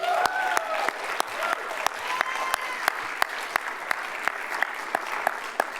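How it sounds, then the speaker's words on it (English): An award ceremony audience at a World Affairs Council of Connecticut event claps steadily for several seconds, individual hand claps sharp and distinct over a continuous patter of applause, with a faint voice underneath. "she deserves a huge round of applause"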